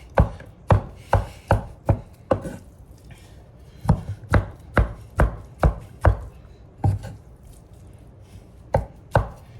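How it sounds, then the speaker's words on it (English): Cooked brisket being chopped on a board with a knife, a run of sharp, close, loud chops in quick rhythmic bursts separated by short pauses, with no talk. "Now I'm going to chop this up."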